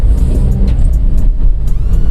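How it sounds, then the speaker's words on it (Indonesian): A 2015 Toyota Agya S TRD with a three-cylinder engine and four-speed torque-converter automatic revs up under acceleration, a loud low rumbling drone with a brief gear-shift dip near the end. "Nah, kita coba gas ya."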